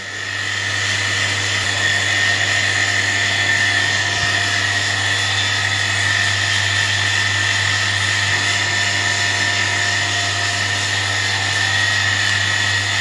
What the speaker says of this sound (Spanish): vamos a esperar 5 minutos con la bomba encendida